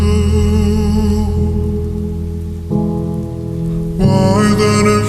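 Steady rain hiss layered beneath a slowed, reverb-drenched pop ballad, the downpour forming a continuous wash under sustained chords and melody throughout.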